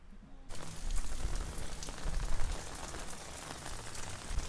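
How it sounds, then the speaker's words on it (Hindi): Steady rain pours outdoors, a dense continuous hiss of drops striking surfaces nearby, starting abruptly after a brief quiet moment and holding loud and even throughout. "तो यहाँ बारिश हो रहा है,"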